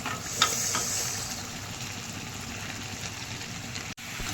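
Pasta is stirred in a pan with water, a soft continuous hiss and faint scraping under a steady background wash, with one brief knock near the start and no talking.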